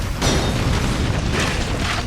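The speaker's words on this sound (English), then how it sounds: "the grenade launcher" A grenade launcher's secondary-fire explosion in the video game Resistance: a loud, heavy boom with a dense rumbling roar that sustains for about two seconds, no voices over it.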